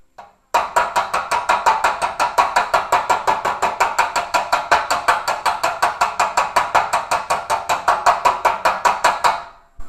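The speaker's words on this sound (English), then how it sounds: "put the dolly in here, light tap with this hammer." A hammer tapping a metal body panel held against a dolly while restoring a 1973 Toyota Celica, in a long, fast, even string of sharp metallic taps that are loud and close with no pause.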